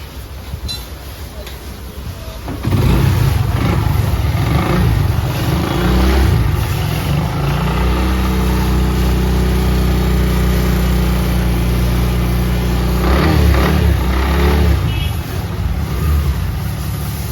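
A Hero Honda Glamour motorcycle engine, freshly refitted with new piston rings and a reattached silencer, starts after a quiet moment and then runs with a loud, steady, close-up idle hum, with a brief rise in revs near the end.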